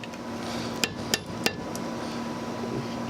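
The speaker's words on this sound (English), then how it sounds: "We're going to hit them out with a hammer." Three quick, sharp metallic taps of a hammer knock out the brake pad retaining pins on the caliper of a 2016 Camaro SS, spaced less than half a second apart over a quiet background hiss.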